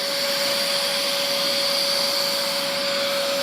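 A UWANT B100E fabric cleaner runs steadily, its suction motor giving a loud, continuous whine with a strong high tone while it cleans a stain on fabric, with no talking over it.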